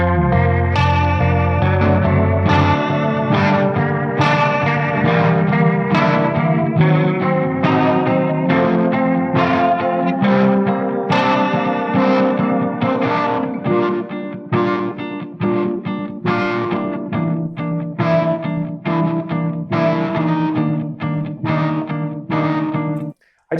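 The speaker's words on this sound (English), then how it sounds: "we added this rotary guitar with the Leslie here" Electric guitar played through a Leslie rotary speaker, its swirling, warbling tone sweeping across a dense run of strummed and picked chords, loud and continuous for over twenty seconds with no voices.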